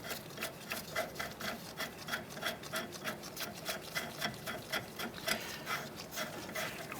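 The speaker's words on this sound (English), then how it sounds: "I'm going to go ahead and remove our jam nut here." A jam nut is worked off the inner tie rod of a 2006-2013 Chevrolet Impala, giving a steady run of quick scraping, ratcheting clicks up close at an even rhythm throughout.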